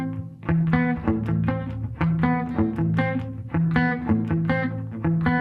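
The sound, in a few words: guitar playing the cello intro of a song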